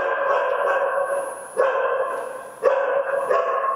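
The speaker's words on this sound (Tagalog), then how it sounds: "maingay po kasi yung aso dahil may mga aso nakatira dito" Dogs bark inside an abandoned hospital at Clark Airbase, a string of echoing, drawn-out barks and yelps heard at moderate distance, with two sharper bursts standing out.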